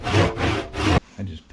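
A handsaw cuts a slit into a wooden knife handle held in a vise for an ulu, giving three loud rasping strokes close by, then a short pause and a quieter stroke.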